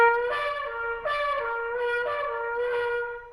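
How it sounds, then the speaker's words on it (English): A brass instrument slurs between notes on a steady, air-driven tone, moving through four or five connected pitches with soft swells, clear and alone. "when I play with a lip slur with mostly air projection"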